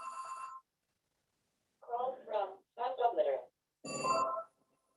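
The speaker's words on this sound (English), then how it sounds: "Sorry about my phone." A mobile phone rings in two bursts of bright electronic tones at a live diplomacy panel discussion, fairly loud and close, with a person speaking briefly between the rings.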